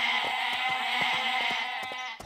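Goats in the Barbie Horse Adventures Mystery Ride game bleat continuously and shakily, several calls overlapping in a loud, tremulous chorus with rhythmic pulses, with no talk over it.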